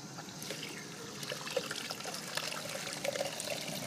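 Water runs from a turned-on tap to fill a container, a faint, steady trickle and splash at a moderate distance with a few small clinks, no talking.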